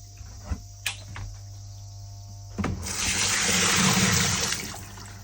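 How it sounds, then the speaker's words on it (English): A few sharp clicks, then a two-second rushing gush as water is poured into a Japanese household washing machine, close and loud before it fades out. "then I pour water in."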